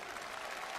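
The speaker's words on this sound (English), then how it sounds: "thanks to the crowd in Japanese to great applause here" A crowd at a K-1 and Dream fight event applauds, a brief burst of dense, steady clapping with crowd noise.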